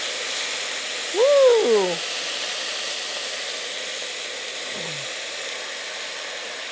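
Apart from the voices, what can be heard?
tomatoes added to a pan of browning lamb balls, sizzling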